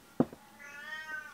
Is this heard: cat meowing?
yes